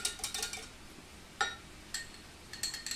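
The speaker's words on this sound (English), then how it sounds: "I'm going to put the cornstarch right in there and whisk that up." Cornstarch gets whisked into a quarter cup of water in a bowl, giving a few brief clinks and scrapes of metal against the dish in quick light bursts between quiet pauses.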